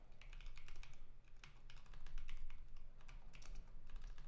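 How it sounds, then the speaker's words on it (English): Rapid bursts of typing on a computer keyboard, close and fairly quiet, with uneven clusters of key clicks and short pauses over a low steady hum. "typing the wrong thing"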